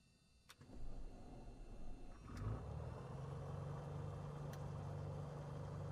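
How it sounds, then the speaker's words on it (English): Simulated Bonanza piston aircraft engine starting in Microsoft Flight Simulator with a Black Square steam gauge overhaul: starter whine and a few clicks, then the engine catches and settles into a steady low, even idle rumble. "And we're going to listen to the engine start."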